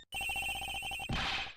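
A cell phone rings in the Ace Attorney Investigations video game, a rapid electronic trilling bell pulsing steadily for about a second before cutting into a brighter burst of noise.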